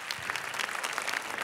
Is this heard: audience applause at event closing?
yes